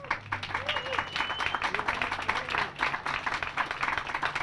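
Crowd applause at an outdoor Memorial Day ceremony in Lake Orion, steady clapping from many hands filling the whole stretch at moderate level, with a voice briefly audible underneath.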